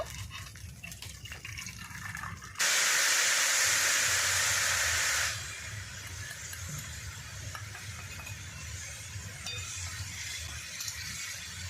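Water is poured into a hot pot of rice being cooked with egg and potato. A sudden loud hiss and sizzle bursts out for a few seconds, then settles into softer bubbling and simmering, close by with no talking.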